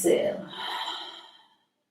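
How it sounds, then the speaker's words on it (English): A single breathy exhale through an open mouth during a yoga breathing exercise, close and soft, fading out after about a second and a half. "Open your mouth, exhale."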